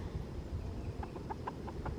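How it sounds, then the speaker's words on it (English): Chickens cluck softly inside a coop, a handful of short, faint calls strung together over a steady low background rumble, with no voices. "There's a few chickens still in there."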